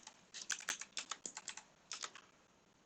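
Quick bursts of keystrokes on a computer keyboard while code is typed, close and crisp, in uneven clusters with a short pause before a final run.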